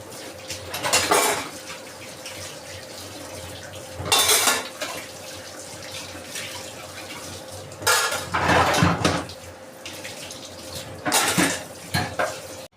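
Glass dishes and utensils clink and clatter as they are washed and handled, in four or five short bursts over a faint steady hum, with no talking.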